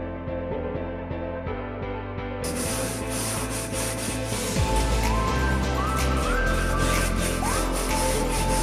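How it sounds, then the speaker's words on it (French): Steady, loud abrasive scrubbing on a van's bodywork, continuous close rubbing with shifting strokes throughout. "On est en train de nettoyer toute la carrosserie pour qu'elle accroche bien."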